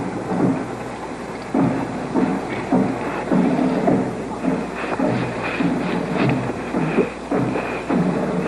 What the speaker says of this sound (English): The only sound here is the sound of the drum roll.